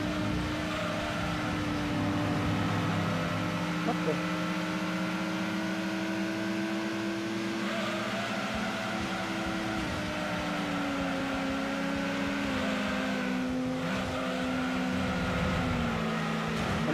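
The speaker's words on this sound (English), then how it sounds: "turbocharging your car solves all life's problems. You go faster and you get to hear this." Turbocharged car engine in Gran Turismo 2, a steady droning hum with sustained tonal whine that shifts pitch slightly as the car accelerates, continuous and fairly loud throughout, with a brief spoken exclamation.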